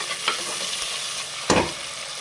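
Sliced onion frying in a pan for a jackfruit pulao, giving a steady sizzle with two brief stirring scrapes, the second one louder.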